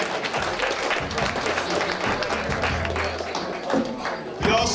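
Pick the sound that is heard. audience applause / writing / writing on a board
audience applause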